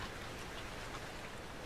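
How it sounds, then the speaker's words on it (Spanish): Steady, dense rainfall in the video game Outlast 2 patters continuously, a broad hiss of drops with no voices, filling the whole moment at an even level. "Está lloviendo sangre."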